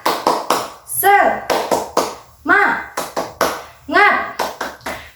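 An Indonesian primary school class claps the 'tepuk semangat' cheer pattern, quick rhythmic hand claps in short bursts alternating with children chanting and shouting in unison, close and lively.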